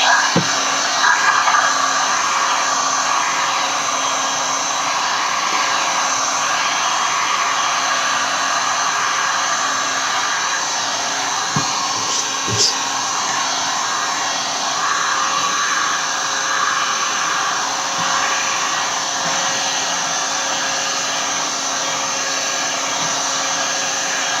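Hair dryer drying a prepped painting canvas: a loud, steady, close whooshing roar that runs unbroken the whole time, with only a faint knock or two underneath.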